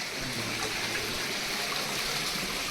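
Water runs steadily in Cheshma Shahi garden in Srinagar, a continuous broadband rush like a fountain channel or stream, even and close with no talk.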